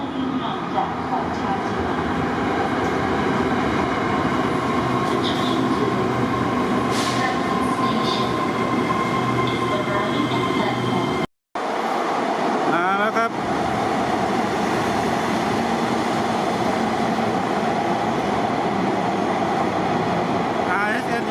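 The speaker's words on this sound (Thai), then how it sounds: "และสายสีแดงก็มาพอดีครับ" An SRT Red Line commuter train arriving, heard as a loud, steady rumble and rail roar that cuts out briefly midway, then resumes with wheel and track clatter.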